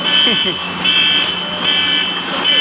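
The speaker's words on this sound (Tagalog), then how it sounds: "Grabe, nag-alarm na yung kotse doon" A car alarm blares in repeating electronic tones outdoors during severe typhoon flooding, with voices talking over it.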